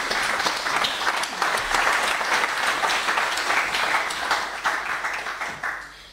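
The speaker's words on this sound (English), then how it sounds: "you can applaud for yourself now." Audience applause at the Socialism 2006 political conference: dense, loud clapping from a large crowd that holds steady for several seconds, then thins slightly toward the end.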